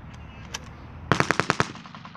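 A WW2-era gun fires a rapid burst of about six or seven sharp shots at a wartime battle reenactment in Yorkshire, loud and close, after a brief quiet lead-in.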